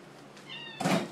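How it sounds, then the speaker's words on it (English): A hungry cat gives a short, close meow, followed immediately by a sharp clatter like a cupboard or door, all within about a second. "cat's hungry."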